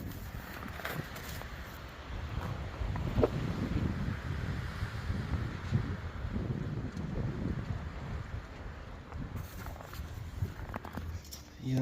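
Strong winter storm wind in an open field in Canada buffets the microphone with a steady roar and low rumbling gusts, and faint voices sound beneath the noise.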